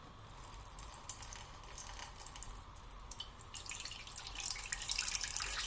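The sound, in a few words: water being poured into a container on a kitchen scale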